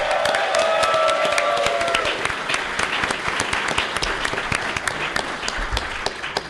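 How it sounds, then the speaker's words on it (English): A large convention crowd at Dragon*Con bursts into sustained clapping and cheering for a costume contest, dense applause filling the whole stretch and fading slightly toward the end. "Let's have a huge round of applause for all the kick-ass costumes."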